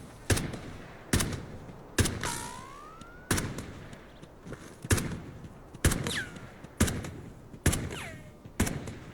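Enemy gunfire in the shooter game Delta Force with HRTF spatial audio enabled: sharp, loud shots at a steady, evenly spaced rhythm of about one per second, with a few whistling, sliding tones between some of the bursts.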